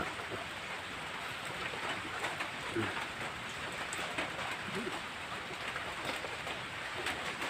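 Steady rain falls outdoors among mango trees, a constant even hiss that holds for the whole stretch with no pauses and no talk.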